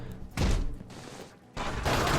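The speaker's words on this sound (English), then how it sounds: "see the gunfire bounce off as you watch the shield fill up with bullet decals" Bursts of rapid gunfire in Urban Chaos: Riot Response, bullets hitting a riot shield, two loud volleys separated by a quieter gap, with thuds mixed in.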